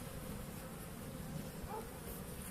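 Caucasian or Carniolan honeybees swarm angrily around a beekeeper's mask, a steady close buzzing drone with slight rises in pitch, no voices.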